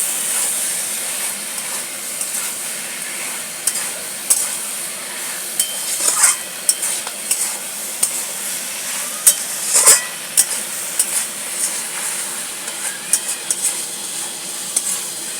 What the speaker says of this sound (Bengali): চিংড়িটাকে দিয়েও ভালো করে একটু কষে দেবো